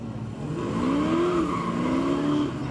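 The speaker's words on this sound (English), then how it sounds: "Warming up the tires a little bit over there in turn number 4." Chevrolet Camaros, a 1986 and an '81, warm up their tires at a speedway drag event. A steady engine drone rises and falls in pitch alongside faint tire noise, heard alone and fairly loud.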